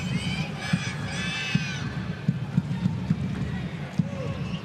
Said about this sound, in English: Still plenty of noise inside McDonald Jones Stadium.